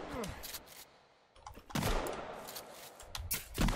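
A closing gunshot in the game Sons of the Forest: a couple of sharp, loud cracks with rapid clicks between them, heard up close in a burst of game noise.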